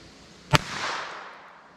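One sharp, close gunshot from a 2.4-inch Beretta Bobcat pocket pistol fired into ballistic gel with Norma TAC-22 ammunition, a sudden crack followed by a brief fading echo.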